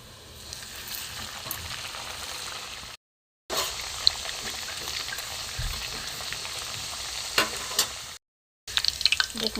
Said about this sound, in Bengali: দেখুন পুরো চিংড়ি উল্টো পাল্টা ভেজে নেব